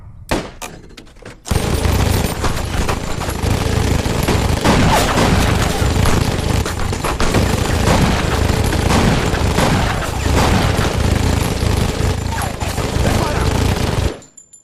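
Gunfire from an action film: a dense, nearly unbroken barrage of loud automatic fire and shots that starts abruptly and keeps hammering for about twelve seconds before cutting off.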